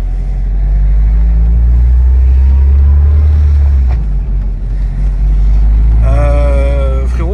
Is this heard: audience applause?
no